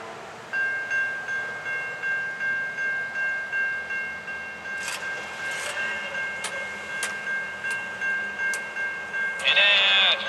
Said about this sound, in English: I see a train coming.